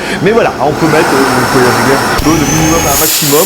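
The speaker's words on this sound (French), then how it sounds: "ça fait un petit son d'aspirateur qui est joli" A Samsung SC07H40E0V bagless vacuum cleaner whines and roars steadily up close while someone talks over it.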